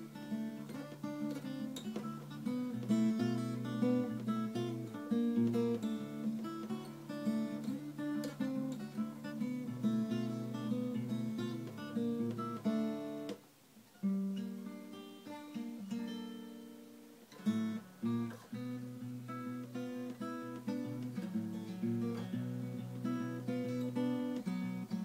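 An acoustic guitar plays the verse of a song with steady strummed chords and picked notes, close and even, with two brief breaks in the rhythm.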